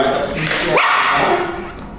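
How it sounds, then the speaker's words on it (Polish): A dog lets out a single loud, close bark partway through, against background chatter and room noise. "tak głośno szczeka"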